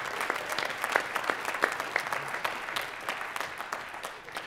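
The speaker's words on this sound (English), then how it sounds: "Let's give one more big round of applause to our modern ensemble that played just before the jazz band" Audience applause at a TRHS modern jazz concert, honoring the school's modern ensemble: dense, sustained clapping from a nearby crowd, steady and full throughout with scattered sharper claps standing out.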